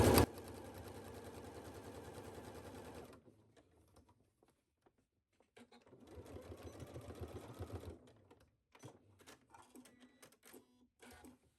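Sewing machine stitching a sleeveless blouse in bursts, a close rapid mechanical whirring for about three seconds, then quiet, then two shorter runs of stitching with small clicks between.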